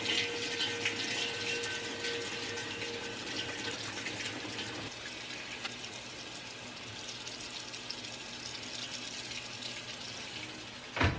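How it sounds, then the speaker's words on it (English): Water pours steadily into a washing machine tub as it fills for a load of baby clothes, with laundry soap already added. The rush runs nearby and constant, dips slightly midway and ends with a brief knock. "I always put the laundry soap in before I put the clothes in, that way it starts mixing with the water"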